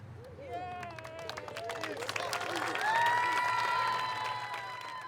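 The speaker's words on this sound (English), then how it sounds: "So we clap and we shout her name as her banner is unfurled." At a high school gym ceremony, a crowd claps and cheers as a championship banner for a former basketball player is unfurled, with shouts and excited voices rising over the applause, over a low constant hum.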